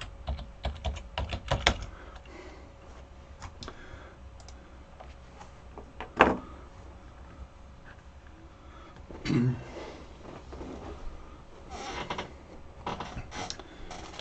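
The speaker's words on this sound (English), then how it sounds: "we won't be doing a lot of typing here" Computer keyboard typing during a lecture: a quick run of dense key clicks at the start, then sparse scattered keystrokes and taps with a couple of louder knocks, fairly quiet and close.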